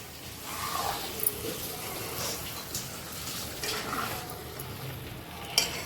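Sliced tomato stirred into chicken biryani in a pot, a quiet, close scraping and shuffling with faint sizzle underneath and a few soft clinks of a utensil against metal, no talking.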